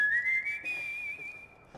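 A person whistles a sustained, steady tune, clear and fairly close, with no talking and only faint room noise beneath it.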